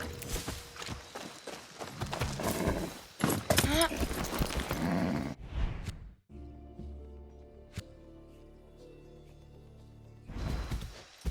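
Horse hooves clip-clopping in the open-world shooter Far Cry 6, a steady walking rhythm mixed with game effects and talk for the first half, then a quieter musical stretch.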